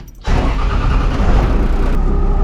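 A rat rod truck's engine is started with a key: a brief starter crank, then the motor catches and settles into a loud, steady idle that runs on close by with no talking.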